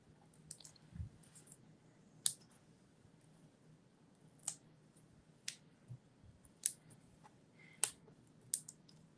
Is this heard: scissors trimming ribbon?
yes